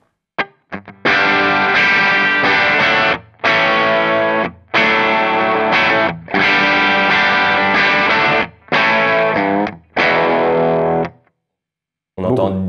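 Electric guitar played through a British AmS amplifier set to the plus position, with neutral or little bright: loud, driven, chord-heavy phrases in bursts separated by short pauses, ending in silence.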